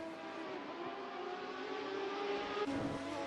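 Race cars roar around the Monaco street circuit in a sim racing video game, a steady, loud, high engine drone with layered tones and a brief shift in pitch near the end as a car passes or changes gear.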